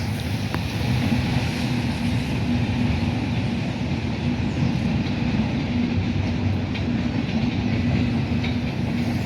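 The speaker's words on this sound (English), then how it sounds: "this is a Norfolk Southern manifest" A Norfolk Southern manifest freight train rumbles past with a steady, heavy low roar and faint clatter of cars, continuous and fairly loud throughout.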